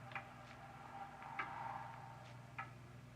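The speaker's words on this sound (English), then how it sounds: "It's a loud clock, ain't it?" A loud clock ticks steadily indoors, its sharp clicks evenly spaced about a second apart over a quiet room hum.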